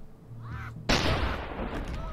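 A cannon fires in Totally Accurate Battle Simulator with one sudden loud boom that decays into a rumbling tail, preceded by quieter game noises.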